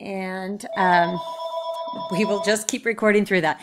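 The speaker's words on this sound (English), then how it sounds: "sorry about the phone ringing in the background" A telephone rings in the background of a classroom-style lecture recording, with sustained electronic ring tones running beneath a person speaking close to the microphone.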